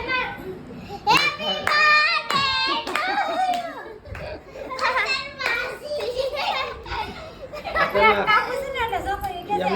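Children chatter and laugh at a lively birthday gathering while hands clap in bursts, the clapping mixed under almost continuous talk from several voices close by.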